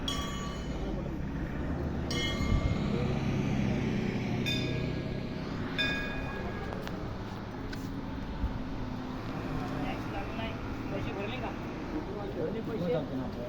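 A train runs near the Rajur Ganpati temple, a steady rolling rumble with occasional metallic clinks and clanks, while people's voices murmur in the background throughout.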